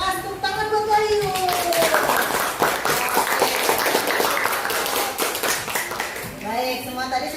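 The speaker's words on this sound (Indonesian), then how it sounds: "Terima kasih, tepuk tangan buat Wahyu." Schoolchildren in a classroom clap together in a sustained round of applause for a classmate, steady and fairly loud, with a teacher's voice speaking over the start and end.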